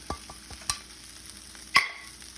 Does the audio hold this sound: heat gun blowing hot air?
no